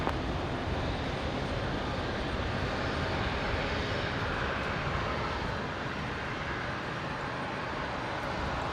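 A QantasLink airliner begins its takeoff roll on runway 19 left at Brisbane International, a continuous loud, broadband engine roar holding steady throughout, heard from a distance without talking.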